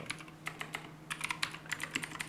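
Quick bursts of typing on a computer keyboard, close and crisp, with irregular key clicks in short clusters and no voices.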